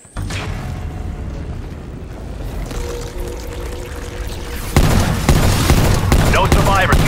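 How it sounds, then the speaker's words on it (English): Hand cannon and other gunfire in Call of Duty: Black Ops Zombies Onslaught Elite on the Cartel map, loud bursts and booms that grow denser toward the end, with game voices over the action. "Going in with hand cannon."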